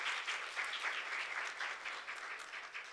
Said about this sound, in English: A round of applause here, please.